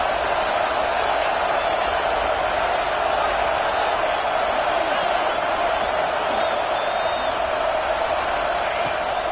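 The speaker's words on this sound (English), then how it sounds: "how nice is it to have the home crowd going absolutely bananas" A home crowd at a football game roars loudly and steadily, a dense continuous wash of cheering voices that does not let up.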